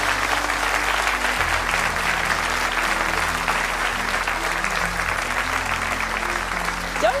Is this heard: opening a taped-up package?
no